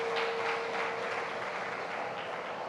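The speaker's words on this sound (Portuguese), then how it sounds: "Dê uma salva de palmas para Jesus, querido, aleluia" A church congregation clapping in praise during a live Portuguese-language service, a soft, even wash of applause that carries on steadily at a moderate distance.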